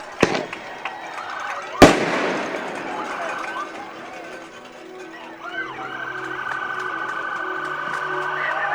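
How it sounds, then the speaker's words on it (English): Fireworks after a high school playoff football game between West Carter and Walton-Verona: two sharp bursts crack loudly near the start, followed by crowd murmur and a siren wailing from an ambulance, with people talking throughout. "And the fireworks in the air here tonight."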